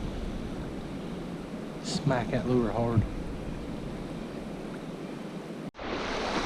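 Fast-moving river water below a dam on the Buller rushes steadily through rocky runs in a broad, constant wash, with someone talking over it partway through.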